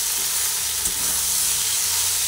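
Vegetables frying in a pan with no water added, a steady close broadband sizzle and hiss running the whole moment with a faint knock of stirring.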